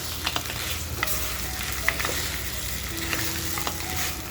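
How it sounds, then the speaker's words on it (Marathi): Crabs frying in a pan give a constant close sizzle with scattered pops and a few clinks and scrapes of stirring, no voices. "चिंबोऱ्या सुद्धा आपण याच्यामध्ये अशा मस्त फ्राय करून घेणार आहोत."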